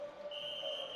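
A netball match official blows her whistle in one steady, sustained shrill blast, heard above the hum of the crowd in the arena at the Africa Netball Cup play-offs in Swakopmund, Namibia.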